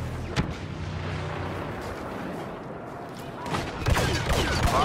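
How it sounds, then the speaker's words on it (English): Y-wing bombers make an attack run in a Star Wars Battlefront walker assault battle, with a steady rumbling roar of distant blasts and artillery-like thuds that builds slightly toward the end, dense and continuous. "Bombers are making their attack run."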